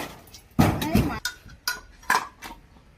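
A plate clatters and clinks on a hard surface several times in quick, uneven knocks while a lemon is being cut, close and fairly loud.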